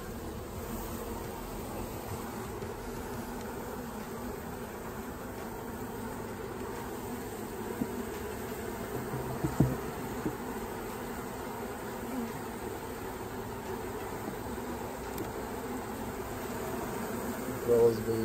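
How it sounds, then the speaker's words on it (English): Steady, dense buzzing of a honey bee swarm in a hive, a continuous hum that stays fairly even throughout, with a few faint knocks and rustles nearby. "Here are the bees from the swarm at Southeast Elk."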